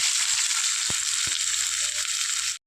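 Green chillies and chopped shallots fry in hot oil for a Kerala-style fish roast, giving a steady bright sizzle with a couple of soft low knocks, cutting off abruptly near the end.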